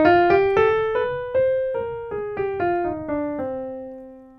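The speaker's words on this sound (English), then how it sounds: "A melodic minor scale sounds like this." A melodic minor scale played note by note on a pitched instrument. About nine clear tones step upward and then back down at an even pace, and the last note rings out and decays.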